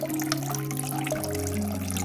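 Water from a homemade bamboo fountain runs and trickles steadily with small drips and splashes, soft and continuous with no voices.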